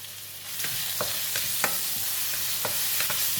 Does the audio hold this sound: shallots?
yes